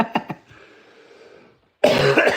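A man coughing while suffering from a cold: a couple of sharp coughs close up at the start, a quiet stretch, then a louder rough burst of coughing and throat noise at the end.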